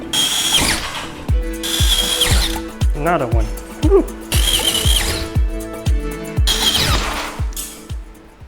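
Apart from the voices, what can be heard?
power drill drilling ceiling holes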